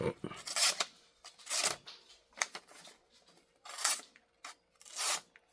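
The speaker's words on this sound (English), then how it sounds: "We'll do a little paper test, see if they're sharp." An Ozark Trail knife slices through paper in a sharpness test, giving a series of crisp, rasping cuts repeated several times in close succession.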